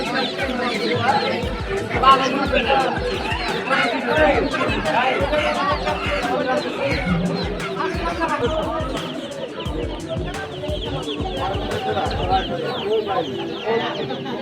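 Fourteen-day-old tiger chicken chicks cluck and chatter steadily throughout at a market, with people talking nearby amid a busy, crowded background.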